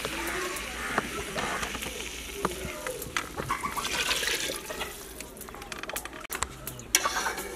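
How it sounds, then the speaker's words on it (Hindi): Water is poured into a pot of fried potatoes and mixed vegetables for pulao, giving a fairly faint, continuous hissing splash with small clatters throughout. "अब इस मौके पे पानी शामिल करने लगे हैं।"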